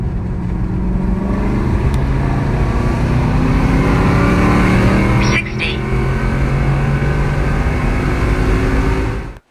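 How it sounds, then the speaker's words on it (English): An Aston Martin accelerating during a timed run, fitted with GT4-style air filters: a loud, continuous engine roar with rising pitch bands climbing steadily, a brief dip near the middle, then fading out at the end. "Here's a recording of the acceleration in that car."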